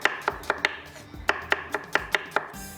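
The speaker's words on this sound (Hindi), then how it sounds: "प्याज को स्लाइस में कटिंग करेंगे।" Knife chopping onion slices on a board for a gobi qeema curry, a run of sharp, evenly spaced cuts in two bursts with a short pause between, close and clear with no talking.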